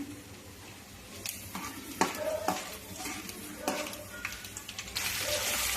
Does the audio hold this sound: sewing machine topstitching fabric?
no